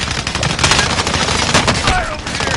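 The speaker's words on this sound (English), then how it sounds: "Taking fire!" Dense, loud gunfire in the shooter game Warzone, a continuous chatter of rapid rifle and machine-gun shots crackling over one another close by, with no pause through the burst.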